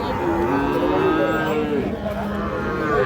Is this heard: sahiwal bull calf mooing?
yes